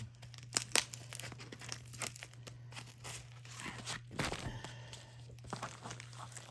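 Taped Temu package being torn open up close, steady crinkling and ripping of tape and plastic wrap with a few sharper snaps, fairly quiet and without talk.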